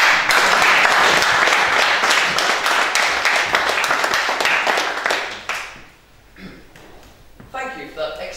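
Audience applause at a public speaking event, welcoming a speaker: loud, dense clapping from a crowd fills the room for about five seconds, then dies away into quiet, with a voice starting afterwards.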